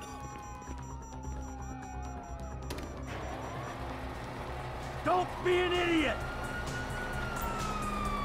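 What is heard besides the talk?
police sirens in Grand Theft Auto V video game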